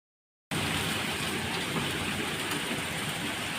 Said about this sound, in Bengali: এখন কিন্তু প্রচণ্ড বৃষ্টি পড়ছে